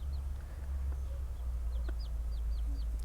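Backyard hen with chicks on a homestead, soft short clucks and faint chirps scattered over a steady low hum of background noise.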